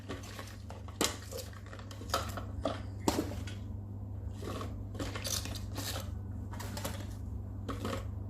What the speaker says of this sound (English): now I need to chop the rest of the vegetables, which is the spring onions first